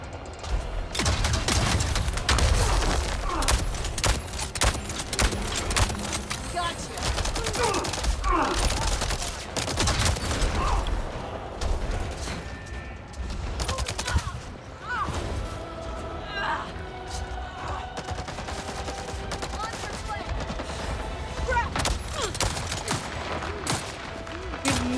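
Rapid bursts of video game gunfire, loud and near, with repeated shots and impacts. The firing runs almost without a break for the whole stretch, and a voice talks now and then underneath it.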